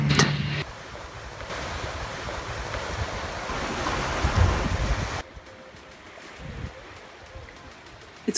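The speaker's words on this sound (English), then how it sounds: "This evening, the wind arrived." Wind sweeping over the open sea, with a loud, dense rush of wind and choppy waves that drops suddenly to a quieter wash of water with a few bumps near the end.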